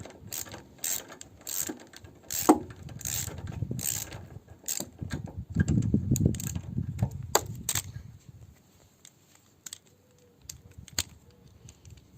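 A screw being tightened against resistance on the carburettor of a Briggs engine: a rapid series of small ratcheting clicks and metallic ticks, with handling rustle and a low mechanical rumble underneath, easing to sparse clicks at the end.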